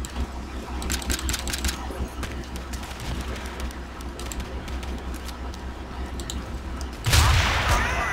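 Gunfire in the video game Battlefront 2, a rapid scatter of shots and impacts throughout over a steady battle rumble, then a louder, denser burst of fire near the end.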